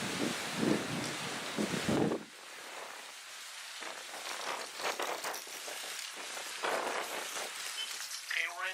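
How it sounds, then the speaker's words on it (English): Strong gusting wind roars and buffets the microphone outdoors in Ventura, California, its loudness rising and falling, while muffled voices talk underneath. "The wind is scaring me."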